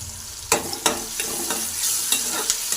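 Oil frying in a pan for badanekai palya, brinjal curry, with a spoon scraping and stirring in several distinct knocks over a steady sizzle, close and clear with no talk.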